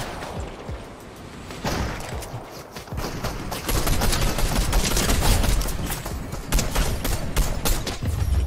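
Rapid bursts of gunfire in the Fortnite video game, dense and loud, with clustered volleys building through the middle and continuing to the end, layered over busy in-game action and no talk.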